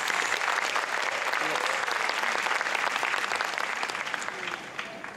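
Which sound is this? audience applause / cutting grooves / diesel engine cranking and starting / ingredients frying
audience applause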